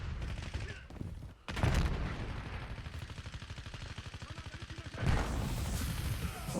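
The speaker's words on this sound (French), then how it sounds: "on me tire dessus" Rapid gunfire from an online Call of Duty Warzone match, a burst of repeated shots in a steady rhythm between louder blasts, fairly close, with faint background game noise.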